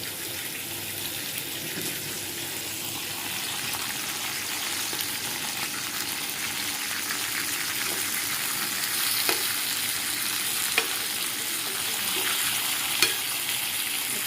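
Fish sizzles steadily in a hot pan for a Marathi-style green masala fish fry, a dense continuous crackle with a few sharp pops and light utensil taps, no voices.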